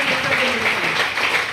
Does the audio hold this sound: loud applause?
yes